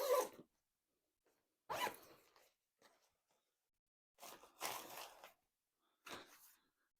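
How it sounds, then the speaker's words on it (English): Main zipper on a Patagonia Mini MLC travel backpack, pulled in several separate short rasping bursts with pauses between, close and clear with no talking. "That's this main zipper."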